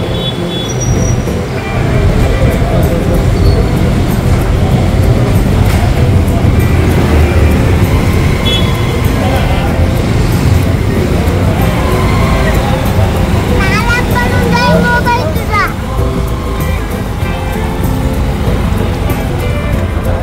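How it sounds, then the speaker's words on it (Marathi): Traffic jam on a rough road near the Khatu Baba temple in Krushnapur, Chhatrapati Sambhajinagar: a steady, dense rumble of idling and slow-moving vehicles that fills the whole stretch, with occasional squeals and horn-like tones and people talking over it. "ट्रॅफिक जाम झालं।"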